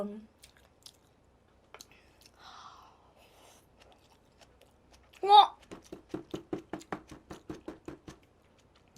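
Someone eating shrimp: a quiet stretch, then a burst of close, wet chewing that settles into a steady run of rhythmic bites, with a voice speaking earlier.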